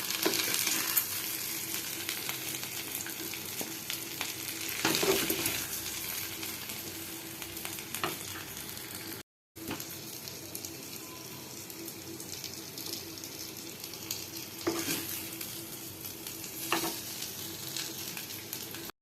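Ivy gourd (kundru) slices fry in a pan with a steady, dense sizzle and occasional stirring scrapes, close and continuous for the whole stretch, briefly cut off once, with no talk.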